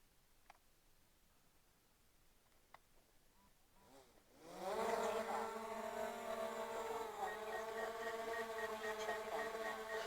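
After a few seconds of quiet with faint ticks, a DJI Mavic Air 2 drone spins up its propellers for takeoff, rising abruptly into a loud, steady, high-pitched buzzing whine close by.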